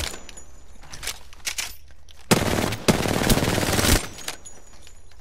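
Rapid bursts of shots from a fire mage in a video game crackle out in loud, dense volleys, with one sustained barrage in the middle and short clattering bursts around it. No voices.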